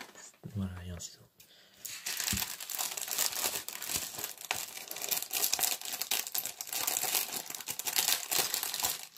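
Yu-Gi-Oh booster pack wrapper crinkled and torn open, a close, continuous rustle and crackle of foil after a brief voice at the start.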